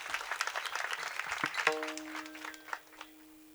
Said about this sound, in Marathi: आजींसाठी एकदा जोरदार टाळ्या वाजल्या